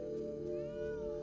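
A cat lets out a strained, drawn-out meow in the 1992 horror movie Sleepwalkers, a single sustained wailing cry with no speech.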